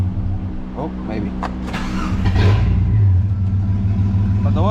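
A Jeep XJ engine with low oil pressure idles steadily with a low, continuous hum. It swells slightly partway through, and a person talks over it.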